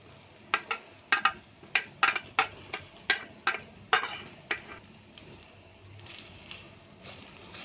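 Chicken kheema samosa filling with lemon juice and coriander cooking in a pan over medium gas, heard as a run of sharp, regular clinks and scrapes of a spoon stirring against the pan, close and fairly loud, then a softer sizzle.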